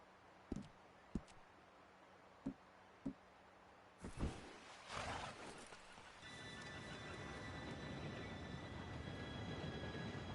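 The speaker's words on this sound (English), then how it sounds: "Train should be here any minute now." A train pulls in within the video game Red Dead Redemption 2: a few sharp, sparse knocks give way to a rising mechanical clatter, then a sustained rail rumble with faint metallic squealing tones, without speech.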